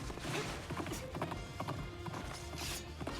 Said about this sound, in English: Wait, do I have a horse now?